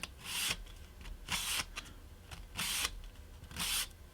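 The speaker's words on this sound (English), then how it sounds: "I'm using 150 grit and 100 grit sandpaper" A wooden board for a model railroad pier is sanded by hand with 150 and 100 grit sandpaper, four rasping back-and-forth strokes following the grain, close and clear with short pauses between them.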